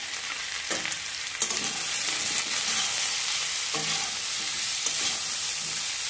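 Vegetables stir-fry in a pan, with a steady sizzle of frying throughout and several scraping strokes of a spatula pushing the food around.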